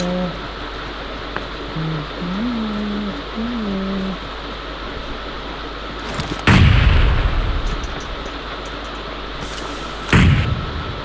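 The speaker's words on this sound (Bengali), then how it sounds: "একটা গ্রেনেড আমার মুখের উপর দিয়ে গেছে" Grenade blasts and gunfire in a shooter video game, with two heavy booms spaced several seconds apart over steady game noise, loud and close, after a stretch of tonal in-game sound.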